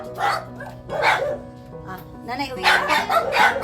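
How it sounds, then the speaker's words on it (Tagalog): Several dogs bark and yip in short bursts over a steady background hum, with people talking over and between the barks. "Ay, grabe daming aso."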